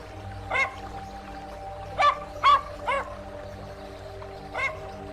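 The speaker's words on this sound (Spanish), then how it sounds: "¿Se escucharon como un perro ladrando?" Several barks from a dog, a single one, then a tight burst of three, then one more after a pause, over a constant low hum.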